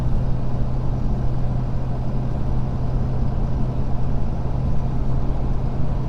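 Ford Powerstroke diesel truck engine pulling a 14,500 lb load uphill in fifth gear at about 1,900 RPM, a steady, loud, low droning rumble that holds constant throughout with no talk.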